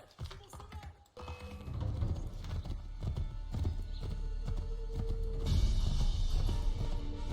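Rhythmic hoofbeats clatter at a quick pace, a galloping horse in Assassin's Creed III with sharp clip-clop impacts over a busy game background.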